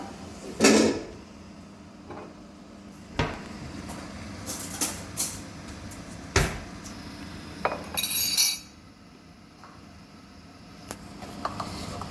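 Maja blanca batter being mixed with a utensil, giving scattered clinks and scrapes against a bowl at an uneven pace, with a few sharper knocks spread through the quiet stretches.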